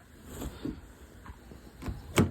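Door locks on a Jaguar XF engage after a battery replacement: a series of short mechanical clunks and thuds spaced irregularly, with the last one loudest, over a quiet background.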